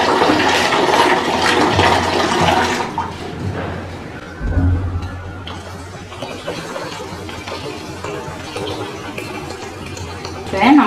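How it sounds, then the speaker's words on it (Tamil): Water poured into a pot of village-style fish curry with tamarind, a loud splashing gush for a few seconds that then fades, with talk continuing over the cooking sounds. "நமக்கு தேவையான அளவு தண்ணி வந்து இப்போ சேர்த்துடலாம்"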